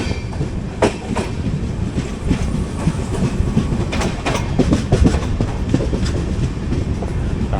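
The 12201 Garib Rath Express rolls along the rails, a loud continuous rumble with steady clickety-clack wheel beats and sharp rhythmic rail joint knocks, heard up close from on board.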